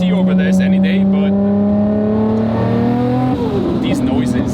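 A car engine revs hard while driving, its tone climbing steadily before dropping at a gear change and pulling up again, loud and close, with someone talking over it.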